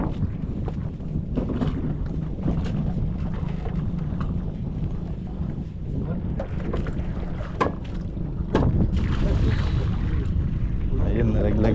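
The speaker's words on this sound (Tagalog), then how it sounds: "Mataas na ho ang tubig at ayan na, nagalaw na ang ating bangka" A boat rocks on high water, with constant wind buffeting the microphone, water sloshing and scattered knocks, and the noise swelling louder near the end.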